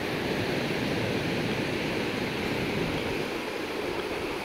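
Steady rushing of river water in the tailwater below Douglas Dam, a TVA dam, heard as a broad, continuous roar with no breaks and no talk.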